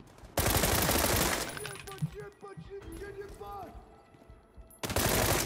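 Gunfire in the World War 3 video game: bursts of rapid shots at the start and end, with a quieter stretch of clinking, metallic game effects in between.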